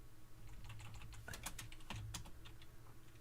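Fingers type on a computer keyboard while entering Linux terminal commands, producing a quick, irregular run of close, soft key clicks with a few sharper taps and no speech.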